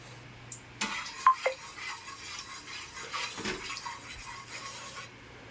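Pancit noodles being stirred in a pan, with metal utensils scraping and clinking and a few sharp knocks, close and fairly loud, no talking.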